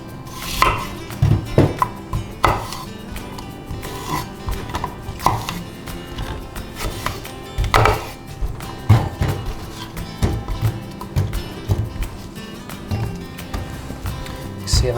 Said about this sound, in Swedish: skära äpplet